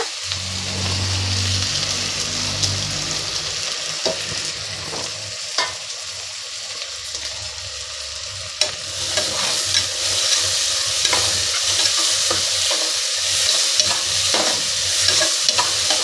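Sliced onions sizzling in ghee over a low flame, a continuous soft frying hiss with intermittent scraping stirs of a spatula in the pan, close up, with no talking.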